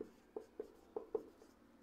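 A pen writes on paper during a school maths lesson, heard as faint, quiet scratchy strokes: about six short taps and scrapes in an uneven rhythm, close by, with no talk.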